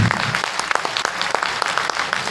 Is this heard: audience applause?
yes